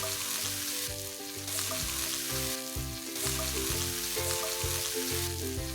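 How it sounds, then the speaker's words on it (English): A paste of garlic, bird's eye chili and ginger frying in hot oil, a loud, steady close sizzle that crackles and surges slightly as it cooks, with a tonal hum beneath and no talking. "Cook this paste in the hot oil for a couple of minutes."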